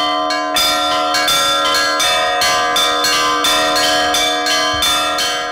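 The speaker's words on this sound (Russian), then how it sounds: "Православные люди любят колокольный звон" Newly consecrated bells peal from the Nikolsky Cathedral bell tower in Venev, ringing loud, bright, sustained strikes in a steady, fast rhythm that overlap into a continuous chime.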